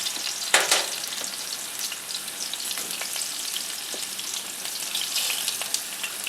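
Potato slices frying in butter in a cast iron pan on a wood cookstove, a close, steady crackling sizzle with brief louder spatters and occasional stirring scrapes, no voices.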